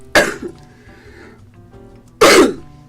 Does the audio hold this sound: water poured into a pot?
no